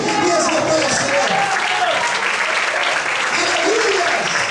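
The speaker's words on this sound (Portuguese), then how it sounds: "Quantos podem aplaudir e exaltar o Senhor?" A church congregation applauds loudly and continuously in praise, a dense wash of clapping that fills the room, with voices calling out over it.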